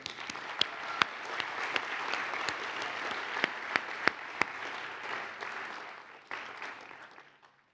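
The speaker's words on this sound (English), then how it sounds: "let's give a round of applause to each other here" Applause from the audience at a 2019 school graduation ceremony in Boston, a steady patter of many hands with a few sharp nearby claps, tapering off toward the end.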